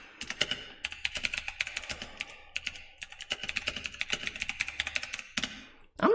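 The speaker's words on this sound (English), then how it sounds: "I'm a pretty fast typer with one hand." Fast one-handed typing on a computer keyboard, dense bursts of crisp close key clicks with short pauses between runs.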